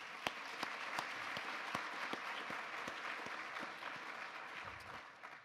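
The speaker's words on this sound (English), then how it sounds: "How about one more round of applause?" Audience applause rings out after a call to honor athletes at an event on women, sports and leadership: quieter, scattered clapping with distinct individual hand claps standing out, steady for several seconds before easing off.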